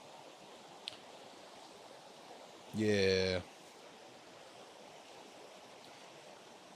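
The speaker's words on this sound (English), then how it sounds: "this lovely river that I'm looking at right now" A riverside stream flows in a steady, faint broadband rush throughout, with a brief spoken word breaking in partway.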